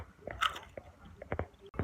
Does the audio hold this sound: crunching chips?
yes